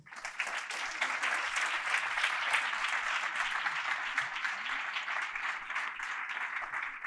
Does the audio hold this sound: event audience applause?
yes